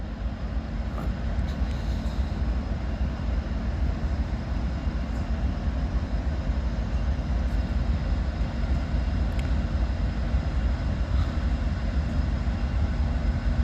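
A northbound coal train on a mainline track rumbles steadily close by, a heavy continuous roar of locomotives and wagons slowing toward a stop, with faint squeals and clanks over the low drone and no speech.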